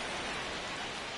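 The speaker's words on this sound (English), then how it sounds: "This rain is not letting up." Steady rain pours at a baseball stadium in MLB The Show 26, a dense, even hiss of falling rain with no breaks, close and constant, with no talk.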